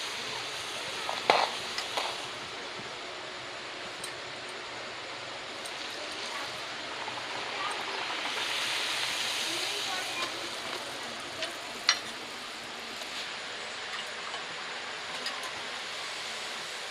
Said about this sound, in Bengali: এই যে আমি একইভাবে এরকমভাবে সব লুচিগুলো ভেজে নেব।